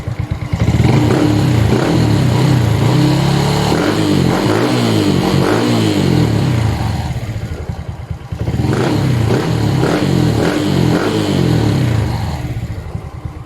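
A loud, close motorcycle engine fitted with a Showar Racing CDI revving in two long bursts, rising and falling with a rough, throaty rattle, no voices.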